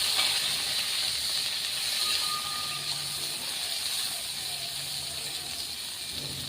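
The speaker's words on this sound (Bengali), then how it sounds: "কম আঁচে একটু ভালো করে সেদ্ধ হওয়া পর্যন্ত ভেজে নেবো, আর বেগুনটা আলাদা রাখবো" Brinjal frying in oil over low heat gives a steady, even sizzle and hiss, close and unbroken throughout, with no voices.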